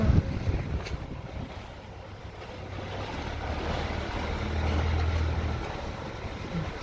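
Strong wind roars steadily outdoors with heavy low rumbling gusts buffeting the microphone, swelling louder toward the end.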